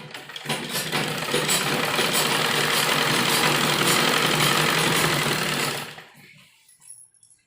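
A sewing machine runs in one long continuous burst stitching kurti pieces together, a loud steady whirring drone close by that stops abruptly, followed by a few faint handling clicks and near silence.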